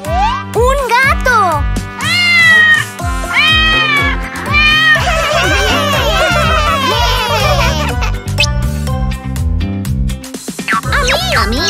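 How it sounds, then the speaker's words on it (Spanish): Cartoon cat meowing in a children's animated show, several bright high-pitched meows in a row alongside lively music and energetic character voices speaking. "¡Un gato!"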